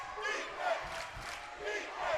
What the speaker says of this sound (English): And now the crowd in full throat here in Gordon